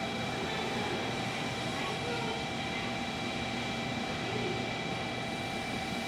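A sleek black and gold Japan Rail Kyushu sightseeing train pulls into a station, producing a steady broadband rumble with a constant whine and faint tonal hum, loud and continuous with no clear breaks.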